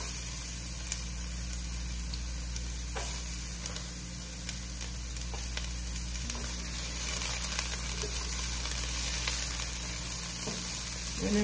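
Onions fry in a pan with a faint, steady hiss. Soft, sparse scrapes of stirring break through now and then, and no voices are heard.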